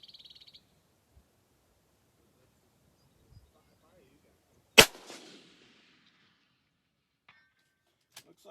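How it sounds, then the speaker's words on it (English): A single sharp, loud crack from a Sig Cross .308 rifle fired outdoors at a range, followed by a short ringing echo amid quiet outdoor surroundings, with a faint chirp near the start. "All right, one more shot."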